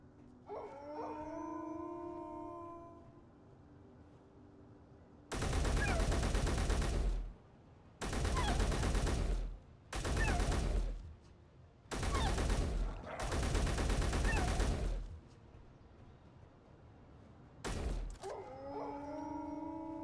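Video game gunfire rips out in five long loud automatic bursts and one short final burst, separated by pauses where howling wolves can be heard in the background.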